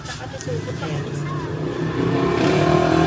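A motorized tricycle pulls away, its engine note climbing steadily and growing louder over three seconds, with a low steady rumble and people chatting faintly in the background.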